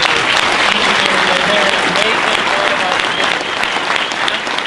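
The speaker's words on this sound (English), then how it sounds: "if you'd give them a round of applause for what they do" Sustained applause from a large crowd at a Delaware City town hall opening, loud and dense, tapering slightly toward the end.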